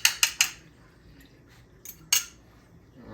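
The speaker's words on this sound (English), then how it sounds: "Let me get a fork here. Whip this egg up." A metal fork clinks against a bowl while an egg is beaten for old-school moist cornbread muffins. Three quick, bright clinks come first, followed by a few sparser taps, close and clear.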